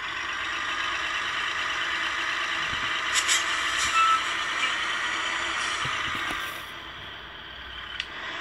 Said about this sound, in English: some sort of a burnout. You hold the brakes